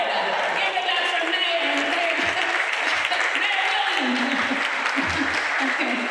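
An audience at a university community celebration for African American Studies claps in a sustained burst of applause, dense and fairly loud for the whole stretch, with a voice faintly present over it.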